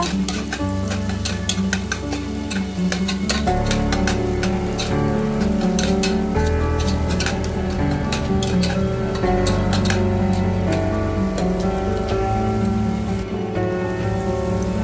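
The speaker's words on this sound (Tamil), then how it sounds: "வெங்காயம் நல்லா வதங்கினதுக்கப்புறமா ரெண்டு மிளகா சேர்த்துக்கலாம் அதையும் சேர்த்து நல்லா வதக்குங்க" Onions and green chillies sautéing in a hot pan for a green peas pulao: continuous loud sizzling and crackling, with stirring scrapes running throughout and no talk.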